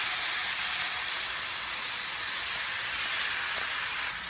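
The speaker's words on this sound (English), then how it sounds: "To saute the shrimp, I'm gonna put a little bit of oil, just a little bit, to be able to saute it" Shrimp sautéing in a small amount of oil, about two tablespoons, in a pan, giving a steady close sizzle and hiss that holds evenly throughout, with no voices.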